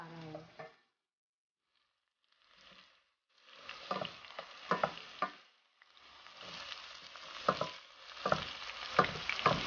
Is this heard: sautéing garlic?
yes